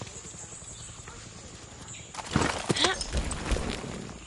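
Horse hooves clip-clop in Far Cry 6, starting about halfway through as a few irregular nearby footfalls after a quiet, hissing stretch.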